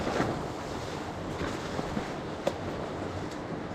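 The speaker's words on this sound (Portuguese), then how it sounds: "Aqui vai pegar vento." Wind gusting across an open mountain campsite at Pedra da Macela near Paraty, a steady broadband rush with buffeting against the microphone and a few sharper gusts, heard alone without voices.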